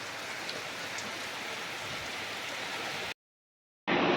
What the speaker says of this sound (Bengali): হাওয়ার জোরে আর তুমুল বৃষ্টি শুরু হয়েছে।